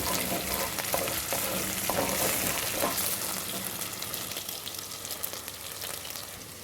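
Meatballs fry and brown in a pan with a constant crackling sizzle, punctuated by occasional stirring scrapes, close and unaccompanied by speech.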